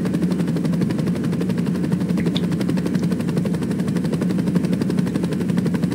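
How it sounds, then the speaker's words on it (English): Helicopter in the Saints Row video game, a steady loud rotor and engine drone with rapid blade chop running continuously throughout, no voices. "if you own a chopper, just like me, in the game"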